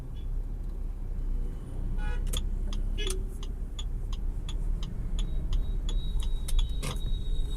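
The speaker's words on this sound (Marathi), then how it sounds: "गाडी मी स्टार्ट केली आहे, गाडी आयडियलिंगला आहे" A car engine idles with first gear engaged, giving a steady, close low rumble throughout, with scattered light metallic clicks and jingles above it.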